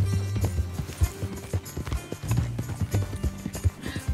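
Horse hooves clop and gallop in Red Dead Redemption 2, a quick irregular drumming of close hoofbeats with faint game sounds underneath.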